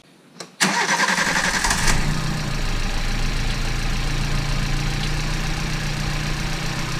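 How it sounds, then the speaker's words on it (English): A Toyota Tazz with a 2E engine cranks briefly and fires up, then settles into a steady, loud idle heard close by, with no talk over it. "so now let's go and start the car."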